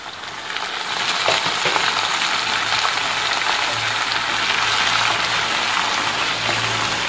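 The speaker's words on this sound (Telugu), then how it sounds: "ఇప్పుడు ఉల్లి పేస్ట్ కూడా వేసి వేపేసుకుందాం." Onion paste sizzles loudly after going into hot oil already holding tempered spices and garlic cloves, a bright, dense crackle that swells after the first second and then holds steady.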